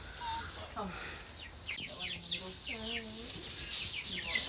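Chicken clucks and short bird calls mixed with human speech, moderately loud and close, with scattered chirps throughout.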